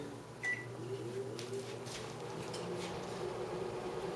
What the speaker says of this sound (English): I guess we can pop it in the microwave for a minute